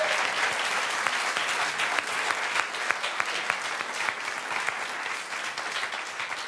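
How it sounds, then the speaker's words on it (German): Audience applause at a live comedy show, steady dense clapping from a large crowd throughout, loud and sustained without letting up. "Nein, aber Applaus hier für Mike."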